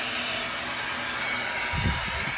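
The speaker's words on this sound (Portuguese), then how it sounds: "Eu estou usando aqui um secador" A hair dryer blows in a steady, continuous broadband rush at moderate level, with a brief low rumble near the end and no voices.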